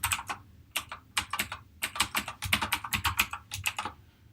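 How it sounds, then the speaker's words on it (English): Rapid typing on a computer keyboard, close and fairly quiet, with irregular bursts of crisp key clicks and short pauses between groups of strokes. "Let's type it again."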